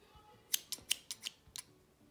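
A pair of scissors is opened and closed by hand, giving six crisp, close metallic snips in an uneven rhythm against a quiet background.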